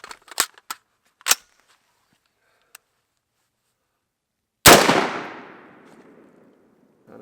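A single .223 rifle round, a standard load, cracks loudly into a 20% ballistic gel block set on a table outdoors with water jugs behind; a few small clicks and taps come before the sharp report, which echoes away.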